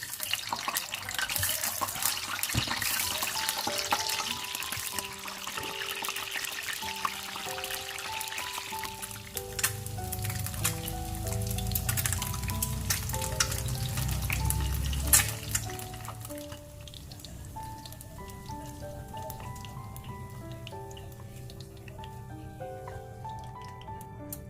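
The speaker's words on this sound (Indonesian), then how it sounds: "Jadi sebelumnya telurnya mau saya goreng dulu ya Mam," Eggs frying in a pan in a home kitchen: a steady close sizzle with a running tap and soft stirring, fading near the end while background music continues.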